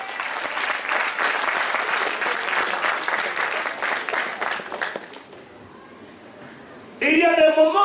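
A church congregation at a New Year's Eve evening service applauds loudly and steadily for about five seconds, the clapping fading before a voice speaks over a brief sound at the end.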